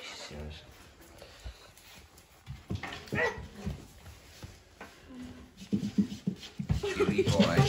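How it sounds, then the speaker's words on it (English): A young puppy makes low growls and small whimpering yips up close in brief bursts, mixed with someone talking softly over it. "Tara, stop you growling."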